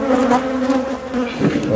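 Honeybees at a drone-laying hive on the Mediterranean coast buzz loudly and close, a dense continuous hum with a few individual bees swelling past.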